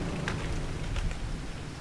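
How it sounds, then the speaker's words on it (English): Rain in the Farming Simulator 25 video game: a dense, steady patter and hiss with a low rumble underneath, filling the whole short stretch without any voice. "I know it's raining."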